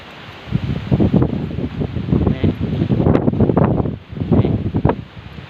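Dry-season wind gusts across open rice fields, a steady blustery roar with rustling and buffeting microphone noise swelling and dipping over several seconds.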